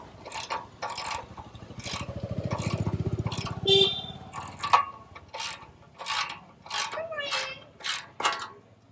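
Ratchet wrench clicking in quick bursts while an exhaust nut comes off a Royal Enfield Classic 350, close and fairly loud, with metallic scrapes and brief low murmurs between the strokes.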